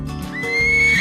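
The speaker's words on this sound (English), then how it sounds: "Horse." A horse gives a short, loud neigh up close, a bright rising whinny that swells toward the end of the brief moment, heard on its own.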